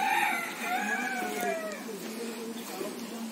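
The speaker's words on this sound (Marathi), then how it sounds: "गावठी कोंबडी" Free-range village chickens kept at a house in a green rural setting near a temple, with a rooster crowing in a drawn-out call and softer clucks and background birdsong, moderately near.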